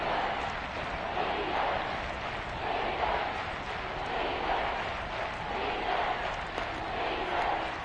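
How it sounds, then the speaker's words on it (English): Stadium crowd noise in an EA Sports American football video game, a steady, dense roar of cheering fans building ahead of a big third down late in a tied game, continuous and fairly loud with no clear talk. "The crowd getting into it as we come up on a big third down"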